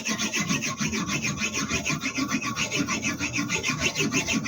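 A knife blade is drawn over the abrasive stone of a MAISTER fixed-angle sharpener in steady back-and-forth rasping strokes, close and continuous, with no talking.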